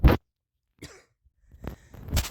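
A person coughs in a few separate bursts: one sharp cough at the start, a weaker rasp, then two more coughs toward the end, close and loud against silence.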